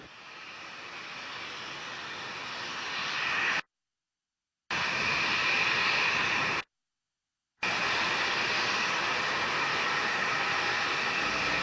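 A rocket carrying the HTV-3 cargo spacecraft roars in flight, a steady broadband rumble with a hissing upper edge that stays strong and even, broken by two abrupt silent gaps, with no voices.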